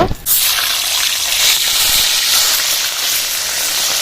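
Hilsa fish heads dropped into hot mustard oil in a kadai burst into a loud, steady hiss of frying that fills the whole stretch close up, opening with a brief splash as the heads go in.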